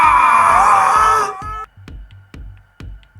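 A monster sound effect from a children's audiobook: a drawn-out angry shout or roar, loud and close, cuts off and gives way to a series of evenly spaced heavy thuds.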